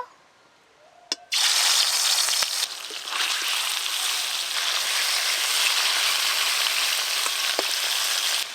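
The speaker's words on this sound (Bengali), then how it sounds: "নুন হলুদ মাখানো মাছ ভালো করে ভেজে নেব" Live singhi fish rubbed with salt and turmeric drops into hot oil in a village kitchen, bursting into a loud, steady sizzle after a brief clink, continuing close and hissing throughout.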